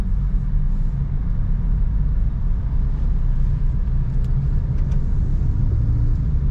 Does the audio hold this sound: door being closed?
no